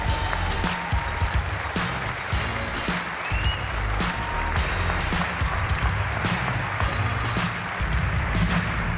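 Loud, sustained applause from a large audience at the 2017 BAFTA Film Awards ceremony in a big hall, dense steady clapping that carries on evenly for several seconds with no speech over it.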